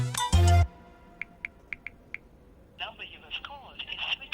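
A mobile phone being dialed to call someone's mother: a loud short tone, then a run of evenly spaced keypad beeps, followed by a faint ringing and voices underneath.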